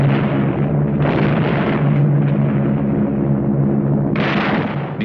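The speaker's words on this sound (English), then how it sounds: "From the air, RAF bombers opened an attack on the Jap positions in the Nagyaduk Pass." RAF bombers attack Japanese positions in the Nagyaduk Pass, a continuous heavy rumble of explosions and engine roar with a sharp burst of blast noise near the end.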